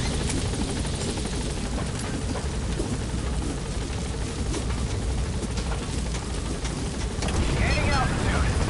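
In Metal Gear Solid V, a helicopter gains altitude with a constant loud rotor drone and rumble filling the whole stretch, while a voice talks over it.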